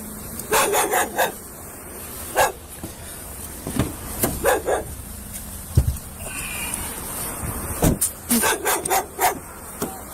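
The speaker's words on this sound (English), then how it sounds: "a white Labradoodle barks frantically, refusing to leave the scene" A white Labradoodle barks frantically in repeated loud bursts at a crime scene, the sharp barks clustered in irregular bunches with brief gaps and some rubbing and handling noise between them.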